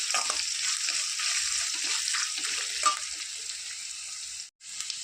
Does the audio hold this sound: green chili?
yes